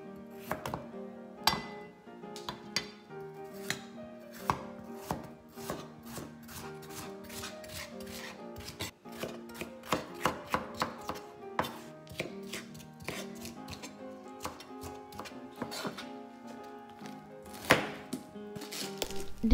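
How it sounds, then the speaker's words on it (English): Knife chopping Chinese cabbage for a motsunabe hot pot, a steady run of crisp, close cuts on a board, near and fairly loud, with no talking. "Cut Chinese cabbage."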